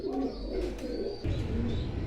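Pigeons coo softly and repeatedly at close range, their low throaty calls overlapping against a muffled background hum.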